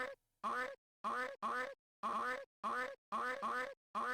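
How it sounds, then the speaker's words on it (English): A duck quack sound effect plays over and over on a stream, about ten loud, honking quacks in an uneven, rapid rhythm, some in quick pairs, with silence between them. "thanks for the quack redeem"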